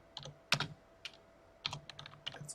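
Keystrokes on a computer keyboard entering a Linux install command for an Apache web server, short clusters of close, crisp clicks with brief pauses between bursts, no talking.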